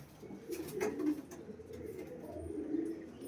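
Soft, low pigeon cooing repeats in gentle throaty phrases, fairly quiet and close, with faint background noise.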